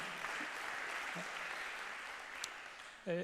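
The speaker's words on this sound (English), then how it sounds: "give him an applause" Audience applause at a sea level rise conference, a soft steady wash of clapping from a hall, fairly distant, with a brief thump near the end.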